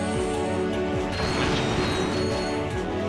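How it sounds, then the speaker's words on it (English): Wrench attacks in Ratchet & Clank: Up Your Arsenal, a dense run of metallic clanks, smashes and ratcheting mechanical clatter over steady game music and effects, loud and continuous throughout. "Beat your ass with a wrench!"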